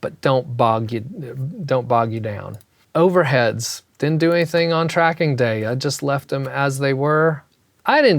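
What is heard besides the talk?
No distinct noise like a dog, phone or traffic.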